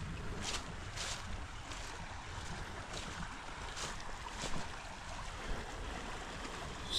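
Steady creek water rushes continuously at close range, a broad even wash with a few brief splashy bursts and no voices.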